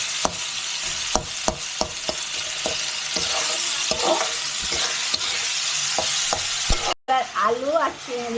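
Prawn and banana flower curry fries in ghee in a pan, a steady close sizzle punctuated by repeated sharp scrapes and taps of a stirring spoon, with a voice briefly speaking near the end.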